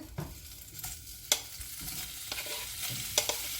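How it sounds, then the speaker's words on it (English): Bacon fries in a pan with no added oil, giving a close, crackling sizzle broken by occasional sharp scrapes and clacks of a utensil moving the strips, and no one speaks. "gonna go ahead and fry these bacon"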